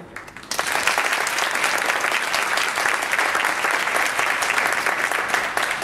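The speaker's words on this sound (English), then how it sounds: "please welcome and give a round of applause to Dr. Teresa Holtrip" An audience at a health program launch breaks into applause to welcome a medical director, clapping starting abruptly after a brief quiet moment and continuing evenly and fairly loud.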